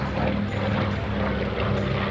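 A North American B-25 Mitchell bomber making a low pass at the 2019 New York International Air Show produces a continuous loud propeller engine roar with steady low droning tones.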